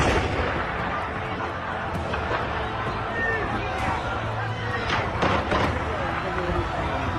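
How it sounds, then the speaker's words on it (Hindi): Russian army gunfire shot into the air over a rally of flag-carrying citizens in Slavutych, Ukraine; a few sharp cracks stand out near the end over a constant, dense crowd hubbub. "रैली के बीचों बीच ये गोलियों की गड़गड़ाहट सुनिए।"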